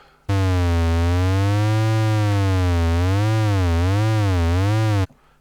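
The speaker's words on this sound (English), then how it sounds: "It's probably easier if I use the pitch LFO. So there's sine wave." A steady electronic tone from a Yamaha CS-5 synthesizer whose pitch wobbles smoothly up and down in a regular sine-wave LFO vibrato, loud and alone for about five seconds.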